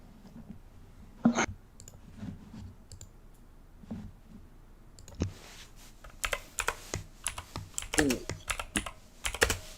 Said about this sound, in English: how come your computer is suddenly so loud? Mechanical keyboard.